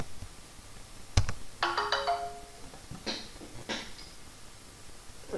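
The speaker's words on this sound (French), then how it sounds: "Je vais couper la sonnerie parce que le téléphone." A telephone ringtone sounds in a quiet room as a short melodic run of bright tones, followed by a few more chimes and clicks.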